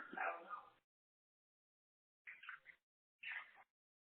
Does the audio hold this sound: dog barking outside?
yes